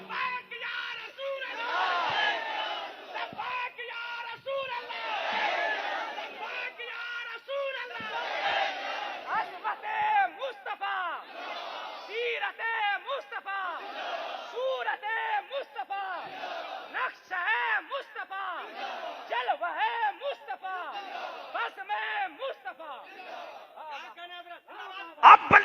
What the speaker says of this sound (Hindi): नारे तकबीर, या रसूलुल्लाह